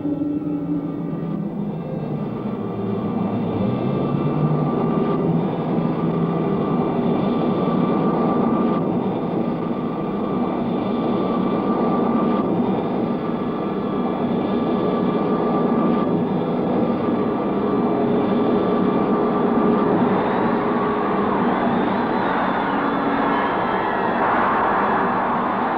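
A spaceship engine in an old science-fiction film roars as the ship enters a planet's atmosphere, a continuous, dull, muffled drone with a whining tone that holds steady and swells slightly near the end, with no voices.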